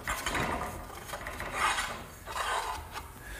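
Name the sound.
metal conduit slipped through drilled hole and eye bolt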